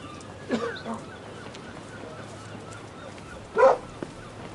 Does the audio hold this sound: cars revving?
no